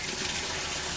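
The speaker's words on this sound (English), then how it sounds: "turn my water on" Tap water pours steadily into the plastic tub of a Costway portable washer and spin dryer used for RV living, a loud, continuous rushing gush heard close up with no one talking.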